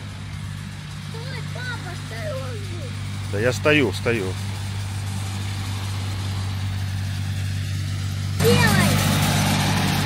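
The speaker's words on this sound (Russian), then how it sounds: "Трактор чистит пляж." Tractor engine cleaning a beach in Sihanoukville, a steady low idling drone heard throughout beneath short bursts of nearby speech.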